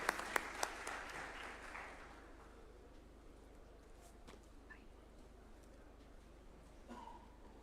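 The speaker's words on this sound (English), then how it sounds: "A warm clap for her as she approaches the swearing-in arena." A crowd at a judges' swearing-in ceremony at State House, Nairobi, claps warmly as a judge approaches, the applause strong at first and then fading into quiet room noise with faint footsteps.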